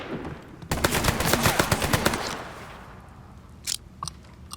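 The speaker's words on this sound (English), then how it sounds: "He's firing on my position." Automatic gunfire from a firefight in Mafia III, a loud rapid burst of shots lasting about a second and a half that fades into low rumble, followed by a few sharp isolated cracks.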